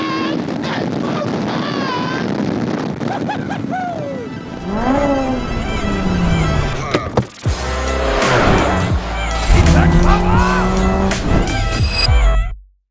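A Suzuki Hayabusa engine fitted in an MK Indy Sport 200 kit car revs hard toward 11,000 RPM. Loud, close rising and falling sweeps repeat several times, then the sound cuts off abruptly at the end.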